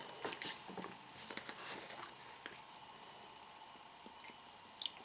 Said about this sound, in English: We're going to go ahead and fill this bottle up to 32 ounces.